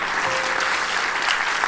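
A church congregation applauding, a dense, steady wash of clapping from many hands filling a worship hall, held at an even level without a break.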